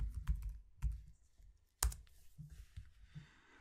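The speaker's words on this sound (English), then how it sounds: "You're going to click there and you type in the word control panel." Typing on a computer keyboard, with a few sparse, close keystrokes and clicks separated by pauses in an otherwise quiet room.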